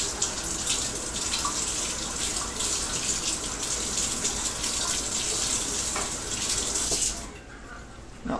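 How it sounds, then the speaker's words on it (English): Tap water runs steadily over a wooden pseudo-Magyar bow, a close, continuous hissing rush that stops abruptly near the end, leaving only quiet room tone. "you can run it under the water for just a second"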